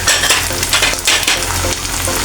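Turmeric, coriander and cumin fry in a hot pan, giving a loud, close, continuous sizzle broken by brisk stirring scrapes. No one speaks.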